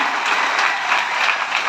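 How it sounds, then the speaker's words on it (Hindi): A large audience at a Mumbai seminar gives loud, sustained applause, dense clapping filling the room steadily for the whole stretch with no speech. "ऐसे सारे गुजराती भाई बहन को जोरदार ताली।"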